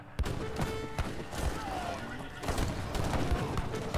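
Gunfire breaks out in a strategy-game battle against Custer, with sharp shots and crackling volleys sounding close and loud over dense battle noise, while a voice talks over it.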